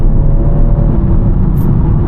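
BMW M140i engine on a downshift, a steady loud low rumble throughout with a brief higher blip near the end, heard from inside the car.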